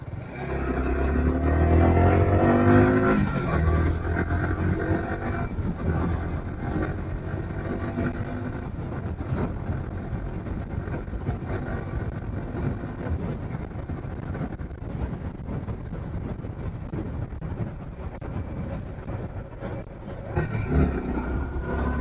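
A motorcycle rides along a road between Suri and Deoghar, its steady engine drone buried under heavy, continuous wind buffeting on the microphone, with a brief louder surge near the start and again at the end.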